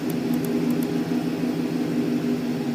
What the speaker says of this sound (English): But I can hear the engine changing, so the purge solenoid is working.